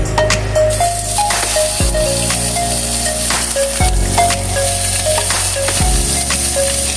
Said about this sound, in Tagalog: At kapag nagisa na, igilid mo na at iprito ang atay.